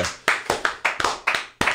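A small group claps in steady, distinct bursts for the sound engineer at the mixing console during a live comedy or game show, roughly eight sharp, evenly spaced claps heard close up, with no talking.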